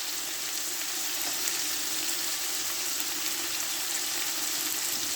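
Whole spices and red chillies sizzling and crackling steadily in hot oil in a pot for matar pulao, a continuous close frying hiss with no talk.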